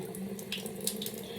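Warm water runs steadily from a sink tap while hands are being washed, a continuous close splashing hiss with no voices.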